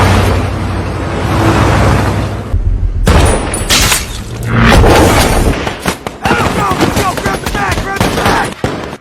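A sniper fires on a distant convoy in a war film scene, with loud booming gunfire and rapid bursts under a dense, heavy soundtrack, broken by a sudden cut and punctuated by sharp impacts.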